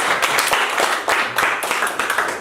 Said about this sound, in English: I want the whole class to clap for these people